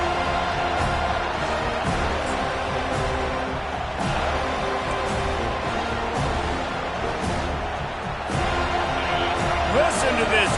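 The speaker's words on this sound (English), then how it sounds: "Listen to this crowd just shaking the girders of this place, trying to help their defense" A packed stadium crowd roaring during a Florida State versus Miami college football game as the defense faces third and long, a constant dense wall of noise with scattered thumps and a commentator talking over it.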